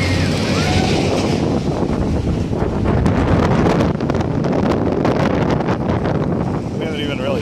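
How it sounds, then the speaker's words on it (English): Strong wind roars and buffets the microphone high up on a tower swing ride at the Miami Dade Fair, a loud continuous rushing with gusty crackles and a voice talking faintly underneath. "Because it gets windy up here."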